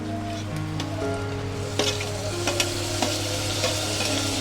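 Fresh tomatoes go into golden-fried paneer in a hot pan, giving a steady close sizzle and frying hiss, with repeated scraping and stirring strokes of a spoon against the pan.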